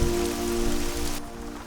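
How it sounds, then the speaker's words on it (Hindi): Sudden rain shower in New York, a dense steady hiss of drops striking surfaces, loud and close, continuing throughout without any voices. "न्यूयॉर्क में अचानक बारिश शुरू हो गई।"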